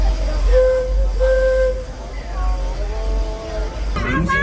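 At Tomorrowland Station, the Disneyland Railroad train rumbles low and steady as a tonal whistle-like hoot sounds in short blasts, with a voice speaking over it near the end.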